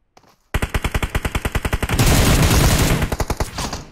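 Automatic gunfire in PUBG Mobile: a fast, loud burst of evenly spaced shots, then a dense barrage of overlapping fire, then more rapid shots trailing off.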